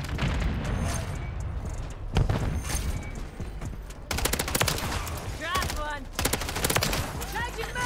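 Rapid MTZ 556 rifle fire in Call of Duty: Modern Warfare III, dense bursts of close gunshots in a multiplayer match, with brief pauses and game sounds around them.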